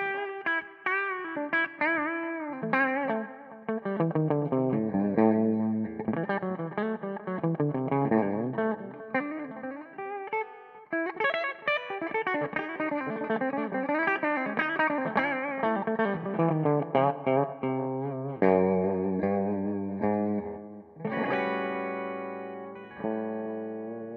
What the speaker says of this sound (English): This is just the humbucker on its own.